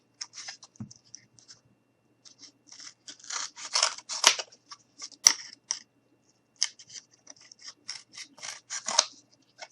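Scissors cutting out a shoe sole for a craft gnome: a steady run of close, crisp snipping and rasping cuts in uneven rhythm, moderately loud in a quiet room, with no talking.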